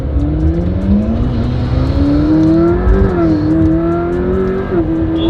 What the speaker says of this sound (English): let's warm up some tires